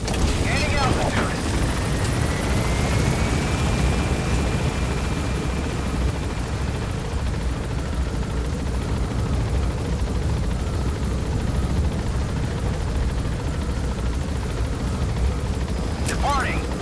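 A helicopter takes off in Metal Gear Solid 5: The Phantom Pain, a loud, steady rotor and engine roar that holds throughout, with a faint rising whine near the start.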